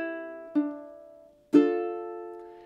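Ukulele strums for a measure of Drunken Sailor, two bright down-strummed chords about a second apart, each ringing out clearly and decaying alone.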